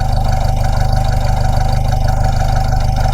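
A used car engine idles with oil blowing out even at idle, a loud, close, steady throb with an even pulse and no talk over it.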